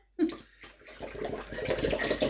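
Liquid is poured into a bowl while making ambrosia, a brief close splash and then a steady gurgling pour.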